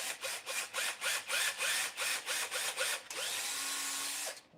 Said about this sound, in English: I just swapped it for a bigger drill bit